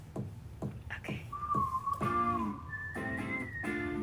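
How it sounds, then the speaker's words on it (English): A clear whistled melody from a demo recording, played from a CD. The whistled line rises and glides steadily over the backing track, up close and prominent for several seconds. "That's a raw whistle."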